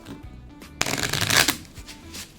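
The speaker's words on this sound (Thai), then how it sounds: "พอเสร็จปุ๊บ กีดไพ่อีกรอบหนึ่งครับ" A deck of poker cards is riffle shuffled up close, a soft tap followed by a brisk purring flutter of cards lasting under a second, then quiet.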